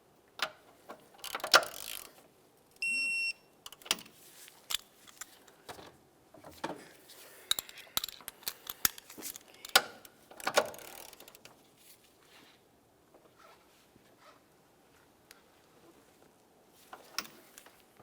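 A ratchet wrench clicks as it turns a Volkswagen Jetta timing belt tensioner bolt through a further 90 degrees, close, irregular bursts of ratcheting and metallic tool clinks separated by brief pauses.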